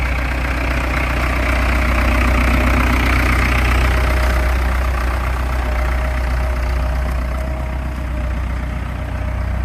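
Ford 66 tractor engine running on a farm, a loud steady low diesel rumble with a knocking chug, continuous and close for the whole stretch, no talking.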